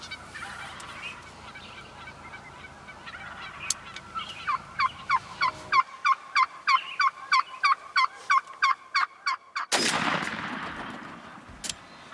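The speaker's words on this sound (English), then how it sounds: "The bird's still gobbling." A wild turkey gobbles outdoors at sunrise during a hunt, a rapid series of sharp, evenly spaced calls, followed by a loud burst of noise.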